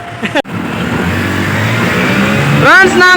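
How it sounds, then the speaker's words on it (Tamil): A tractor drives along during a village cattle Pongal festival, its engine a steady low rumble, with voices and a brief horn-like tone near the start and end. "இப்ப இந்த டிராக்டர்ல தான் போய்கிட்டே இருக்கோம்"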